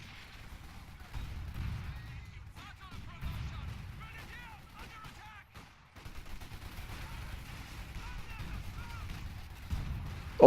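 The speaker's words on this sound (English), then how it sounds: "Grenades going in." Explosions and gunfire crack and thud in bursts across a WWII strategy game battle, with grenades bursting amid steady combat noise while a commentator talks over it.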